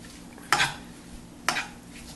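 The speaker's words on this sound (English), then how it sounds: "I'm going to take a bunch of spinach and wilt that down to make our filling" Spinach being stirred into sautéed onions in a pan as it wilts, two distinct scraping stir strokes over a faint background sizzle, close and clear.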